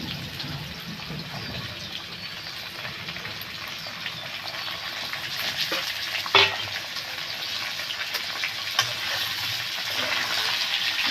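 Potatoes fry in hot oil after moreola fish, a dense, continuous sizzle that holds steady up close, with a couple of brief clinks and scrapes from stirring.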